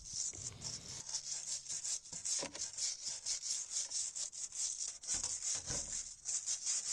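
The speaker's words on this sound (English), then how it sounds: "So it's really important to get all of the loose flakes off, really rub it back as far as you can" Steady back-and-forth abrasive rubbing scrapes loose rust flakes off the surface-rusted wing of a 20-year-old Ford Ka, a close, rhythmic rasping repeated many times at a quiet level.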